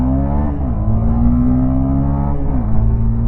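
A Honda CB300F motorcycle engine revving hard at speed, a loud, close, continuous buzzing drone that shifts pitch with throttle changes and a gear change.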